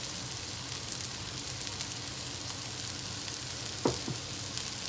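Oil frying in a pan gives a steady, close hiss and crackle throughout, with one brief clink of a utensil near the end and no talking.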